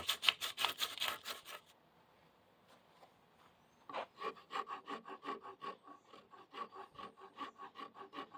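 A wooden guitar neck is sanded by hand in rapid back-and-forth rasping strokes, a quick burst followed by a quiet pause, then a longer, steady rhythmic run of strokes, close and fairly soft.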